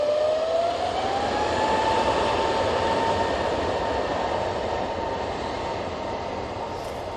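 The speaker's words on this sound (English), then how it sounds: "This Jet2 A321 Neo is off to Burgas" A Jet2 Airbus A321neo departs Manchester Airport, a loud, steady broadband jet roar with a rising whine that holds throughout, close and continuous.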